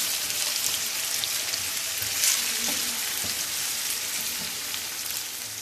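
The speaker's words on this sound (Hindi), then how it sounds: "इसको 5 से 10 मिनट के लिए इसको फ्राई करेंगे हम, ताकि ये सॉफ्ट हो जाए" Egg breakfast ingredients frying in a pan give a steady, close sizzle with fine crackles and occasional spatters, continuous and even throughout.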